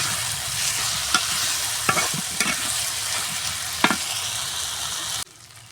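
Potatoes sautéing in spice masala in a pan for a dried-fish curry, a continuous close sizzle broken by several sharp spatula scrapes and knocks, ending abruptly.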